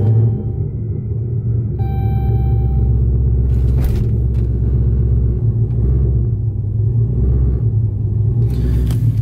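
A car engine with an aftermarket camshaft idles close by, giving a steady, deep, loping rumble with slight rises and dips in speed and no talking.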